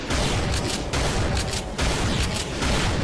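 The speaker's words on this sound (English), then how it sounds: "we're gonna use the shotgun because I am Doom Guy" Shotgun blasts from the game Brutal Doom, played on the Hanging Gardens map, fire in dense, loud succession over a constant roar of combat noise, with no clear gaps between the shots.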